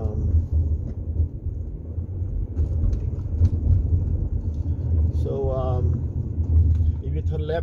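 Car driving through downtown Seattle, a steady low engine and road rumble running throughout at moderate loudness, with faint traffic and city sounds on top and a brief higher tonal whine near the end.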